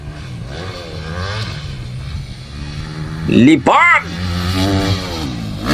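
A Honda CRF 250cc dirt bike engine revving hard during practice, rising and falling in pitch with a sharp surge midway, heard under excited spoken commentary and shouting.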